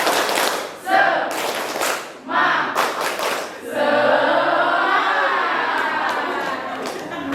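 Group clapping chant led in an Indonesian classroom session, with bursts of rhythmic claps and shouted voices, followed by sustained clapping and crowd noise, fairly close and loud.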